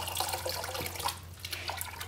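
Tap water running into a sink in a pottery studio, a faint, thin trickle with small splashes and drips over a low steady hum.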